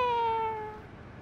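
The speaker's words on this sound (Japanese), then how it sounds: "猫、お隣さんかよ。" A single cat gives one clear, drawn-out meow close by, its pitch falling as it fades into quiet room tone.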